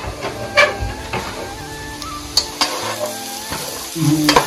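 Vegetables stirred and frying in a pan in a home kitchen, with a steady close sizzle and repeated scraping, clattering stirs over the hiss.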